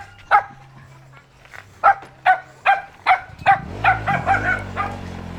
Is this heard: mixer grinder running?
no